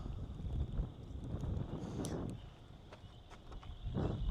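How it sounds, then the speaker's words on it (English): Steady wind buffeting the microphone outdoors in Wisconsin during a severe weather threat, a low rumbling roar that swells and eases throughout with no voices. "It is very windy out here, though."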